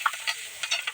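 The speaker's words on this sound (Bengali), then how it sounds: "একটু নাড়াচাড়া করে দিই। কাঁচা লঙ্কা দিলাম," Green chilies tempered in hot oil are stirred in a pan, giving soft intermittent sizzles and scraping strokes, faint and close.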